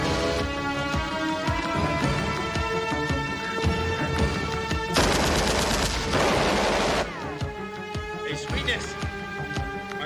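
A shootout in an action movie, with rapid bursts of gunfire and clattering shots running through the scene, loud and dense, under a music score and some voices.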